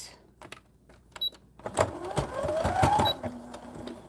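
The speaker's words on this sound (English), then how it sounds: "So I'm going to back stitch" A sewing machine back stitching fabric for a snowball sleeve runs in a steady whirring burst that builds after a few scattered clicks and taps, close and moderately loud.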